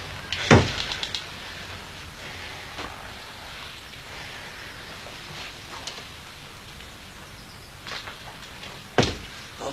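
Shop door opening and then closing, a sharp knock and rattle at the start and another thud near the end, with soft rustling and shuffling ambience between.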